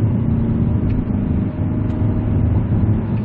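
A 2020 Kia Carnival minivan accelerates along the road. From inside the cabin it makes a loud, steady low engine-and-road drone that holds evenly throughout, with no speech.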